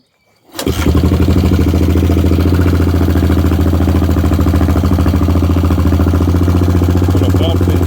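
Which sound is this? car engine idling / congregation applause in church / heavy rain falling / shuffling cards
car engine idling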